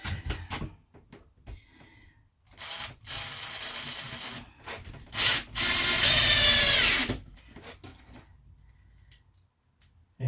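A power drill drives screws into a wooden chest, brief whirring spurts building to one long, loud run, with scattered clicks and handling knocks around it in a quiet room.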